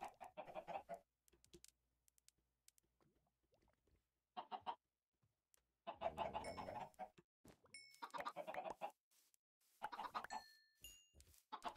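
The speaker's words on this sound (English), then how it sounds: "How are my chickens doing?" Chickens in the Minecraft video game cluck in short scattered bursts separated by near silence, fairly faint, alongside a few brief chirpy tones.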